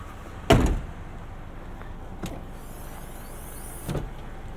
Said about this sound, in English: You can pop the hatch with this lever right here.